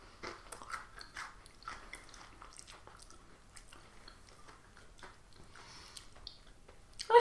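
Korean Oreo-like biscuits bitten and chewed close up, with soft intermittent crunches and mouth noises, fairly quiet, ending in a sharper louder bite.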